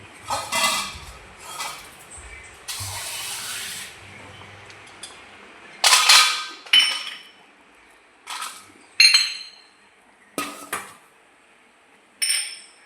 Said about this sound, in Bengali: এবার কাজু বাদাম আর কিশমিশটা দেব